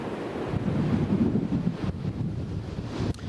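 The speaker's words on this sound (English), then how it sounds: "the wind really picked up now" Strong wind gusts roaring across an open cemetery family plot, a steady broadband rush with buffeting against the microphone that rises and falls, with no talking.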